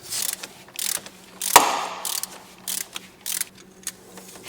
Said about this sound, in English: Next you're going to need an E10 inverse Torx socket. And you're going to remove 2 bolts.